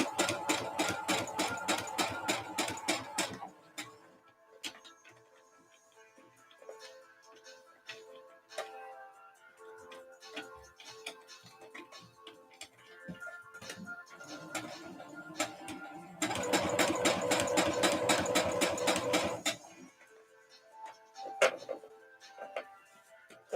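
A home sewing machine stitching thick cotton fabric for a corset top, with two loud bursts of rapid, rattling stitching separated by quieter handling sounds and short ticks, all close by.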